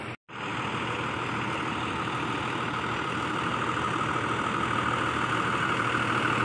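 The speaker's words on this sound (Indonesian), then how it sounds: "bus STJ terbaru yang mesin depan Mercedes-Benz 1623 ya" A front-engine Mercedes-Benz 1623 bus idles with a loud, steady, broadband rumble and hum that runs unbroken after a brief gap at the start, with no talking over it.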